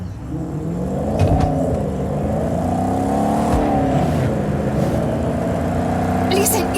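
Car engine in Just Cause 4 droning steadily with rising and falling revs throughout, close and continuous, with a voice talking over it.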